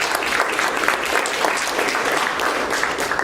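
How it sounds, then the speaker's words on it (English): Audience applause in an auditorium greeting a panel, a loud, dense burst of many hands clapping continuously for a few seconds, close and full, with no talk over it. "Let's give them a round of applause."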